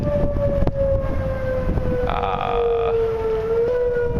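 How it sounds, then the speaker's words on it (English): A long, sustained outdoor tornado siren drones steadily, its pitch slowly sliding downward, with a brief rougher burst midway over low background rumble. "So we're pretty sure that that's a tornado siren."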